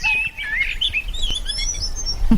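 Several birds chirp and tweet in quick, bright bursts, close and lively, with overlapping calls filling the short stretch.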